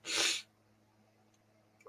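One loud, close sneeze, a sudden hissing burst that stops abruptly, followed by quiet room tone.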